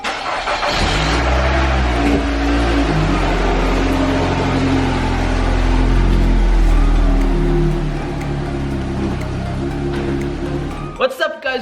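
Car engine running and revving as the car is driven and moved in the rain, a loud continuous drone that swells and eases before cutting out near the end.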